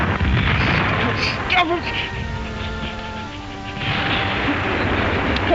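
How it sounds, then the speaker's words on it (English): Bombs bursting as a radio-drama sound effect for a wartime siege at Tobruk, heavy rumbling blasts filling the whole stretch while someone shouts over them. "the sound of bombs burst the mind and reason cracked beyond a man's restraint"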